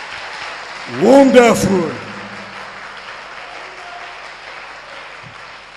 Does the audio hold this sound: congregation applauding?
yes